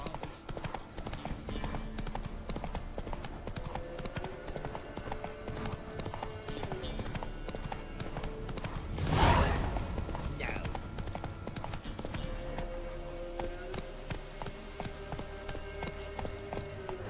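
Hooves of Geralt's horse Roach clip-clopping in a steady, brisk rhythm while galloping in The Witcher 3, with a short louder burst midway and game sounds underneath.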